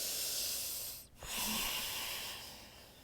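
Slow, deep breath during a yoga flow, a long steady hiss of air with a brief pause and a faint low snort before the exhale continues, close and alone.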